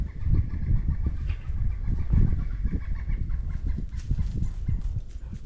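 Outdoor bird calls at a building site during a window install, a series of repeated clucking or chirping notes at moderate distance over low background rumble.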